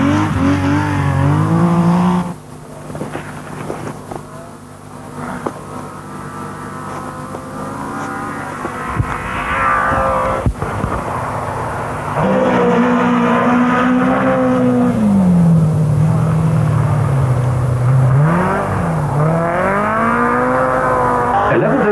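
Audi Quattro rally car driving on ice and snow at the 1981 Swedish Rally, its engine revving hard with rising and falling pitch through gear changes, loud and close, briefly dropping away mid-clip before surging back.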